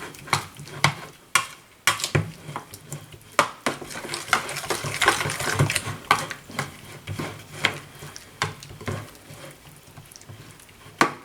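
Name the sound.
stirring roasted tomatillo salsa ingredients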